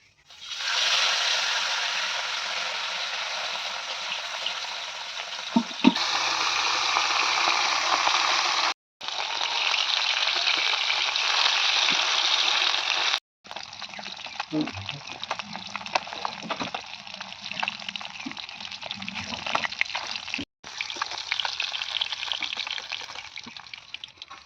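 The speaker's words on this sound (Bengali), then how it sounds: "তো এখন ভাজবো মাছ, সারা মাছ।" Sara fish fry in hot oil in a wok, a loud, continuous hiss and crackle broken by brief gaps, with occasional splashes or turning noises.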